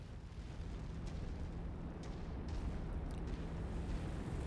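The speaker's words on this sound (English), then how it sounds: "Incoming missile. Target destroyed." Mech video game explosions of destroyed targets: a continuous low rumble of blasts, with faint crackling bursts scattered across it, distant and muffled with no voices.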